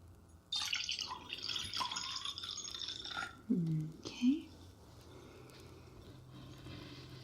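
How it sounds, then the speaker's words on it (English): Drink poured into a glass in an upscale restaurant, a close, quiet trickle with gurgles that lasts a few seconds before fading into a soft, hushed background. A voice speaks briefly near the end. "Would you like me to pour you a glass?"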